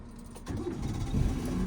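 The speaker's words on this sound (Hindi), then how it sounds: "हाँ इंजन ऑन करो" A car's engine is switched on during a driving lesson, with the clutch pressed and the gearbox in neutral; after a quiet moment it catches and settles into a steady, close, low idling rumble.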